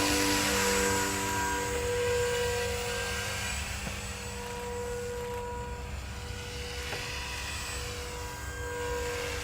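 Steady whirring of a Walkera V500D01 flybarless 3D RC helicopter in flight outdoors, rotor and motor tones droning continuously at a fairly even level, slightly louder at the start.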